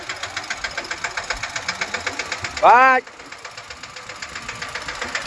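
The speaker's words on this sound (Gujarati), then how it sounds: "અને આ ભાઈનું ટ્રેક્ટર છે" A tractor's diesel engine idles with a steady rapid knocking beat, close and moderately loud, while a person talks over it briefly and rain-soaked farm surroundings stay in the background.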